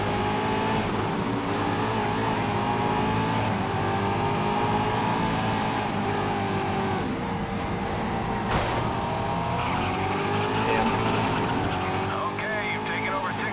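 Loud racing engine in the video game Race Driver: Grid, roaring continuously with a sharp screech of tires skidding as the rear brakes lock partway through, dense and close throughout.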